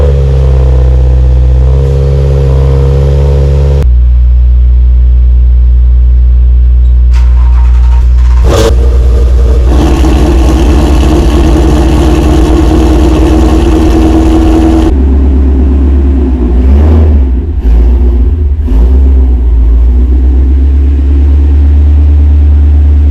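A Subaru WRX engine runs loud and close, with a deep rumbling idle, a rev, and then a steady drone as the car is moved out of a garage.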